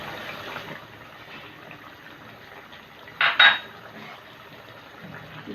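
A lid set onto a cooking pot of chicken curry gives a single close metallic clank with a short rattle, standing out against faint kitchen background.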